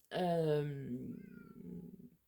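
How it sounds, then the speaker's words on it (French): A cat cries at a window with one long, loud, drawn-out meow that falls in pitch and trails off into a softer plaintive tail, close by and heard alone. "j'ai mon chat qui est en train de pleurer à la fenêtre"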